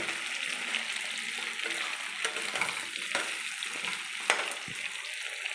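Potatoes and onions fry steadily in a pan while a prawn and pointed gourd curry is being made, giving a continuous close hiss and sizzle with occasional stirring clinks and no voices.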